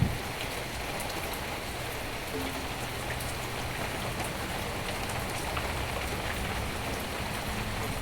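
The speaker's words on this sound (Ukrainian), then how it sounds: "Така гарна проливна злива." Heavy rain pours down steadily, a dense, even hiss of water hitting surfaces that continues without a break.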